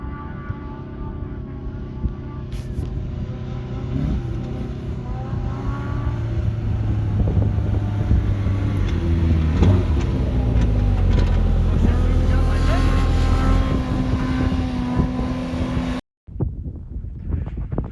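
A greasy pickup truck drives along with a steady engine drone and rising revs, wind buffeting the microphone, before the sound cuts out briefly near the end.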